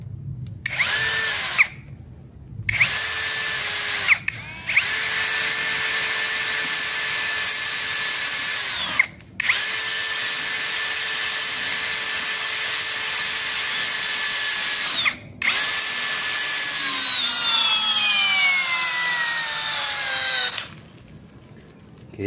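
A Zhipu 16V brushless cordless drill drives a 15 cm, 6.3 mm screw at speed setting 1, with long loud whirring runs broken by short stops, and the pitch drops under load as the screw bites deeper.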